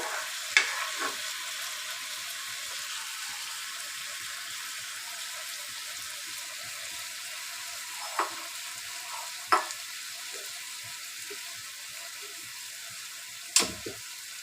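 Apple chutney being stirred in a pan: a low steady sizzle runs throughout, broken by a few sharp spoon-on-pan knocks and scrapes, some grouped near the start and others spread out later, close and clear with no voices.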